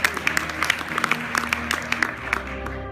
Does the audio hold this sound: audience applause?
yes